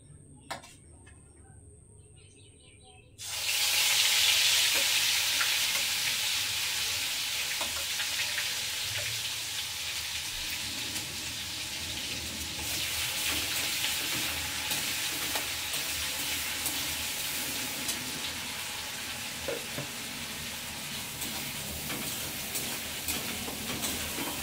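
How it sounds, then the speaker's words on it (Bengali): Whole garam masala frying in a hot kadai, a sudden loud sizzle that bursts in after a few quiet seconds and then holds steady and bright, crackling continuously with faint stirring. "কড়াতে গোটা গরম মশলা দিয়ে দিয়েছি বন্ধুরা"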